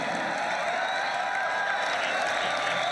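A sellout arena crowd in Manila roars and applauds after Kevin Belingon's One Championship win, a dense, continuous wall of cheering, whoops and clapping filling the space at steady high volume.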